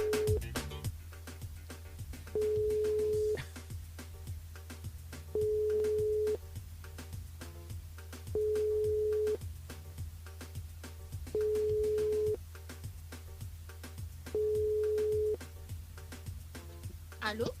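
A French radio show's outgoing phone call to a listener: a repeating telephone ringback tone sounds in regular bursts of about a second, five times in a row, over a low steady hum with no talk.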